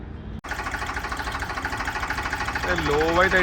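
A Farmtrac 45 tractor diesel engine cranks after a short pause and settles into a rhythmic, pulsing idle close by, with a voice speaking briefly over it toward the end; the silencer has a leak.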